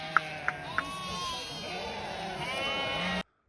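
Sheep bleating in a village herd returning from grazing, a few short bleats early on, then a steady wavering chorus of bleats with a voice in the background.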